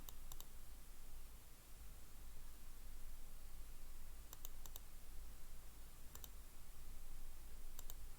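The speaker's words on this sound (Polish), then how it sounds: "Klikamy dwa razy" A computer mouse double-clicks in quick pairs, faint and close, several times at intervals over a steady hiss of background noise while working in cutting-plotter design software.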